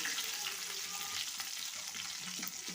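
Onions fry in oil with curry leaves, cumin and fenugreek for a brinjal dish, a soft steady sizzle with light stirring scrapes, faint and close, no talking.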